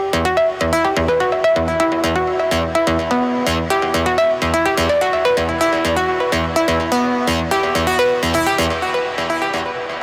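A dense music track processed through a Decapitator saturation plugin for a fatter, fuller tone, with driving rhythmic hits and a thick, saturated low end. It plays loud and continuous throughout, with no talking.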